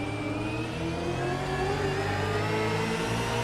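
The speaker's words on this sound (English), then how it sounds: "I love listening to these onboards and listen to their throttle." Car engine heard onboard in a sim racing game at Road Atlanta, held at steady high revs with a rising whine under throttle, loud and continuous with no talk.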